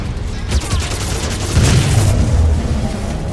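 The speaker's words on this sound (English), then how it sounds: "Power core destroyed." Explosion of a power core in the Halo 5 video game, a deep booming blast with rumbling debris that swells midway and lingers for a couple of seconds.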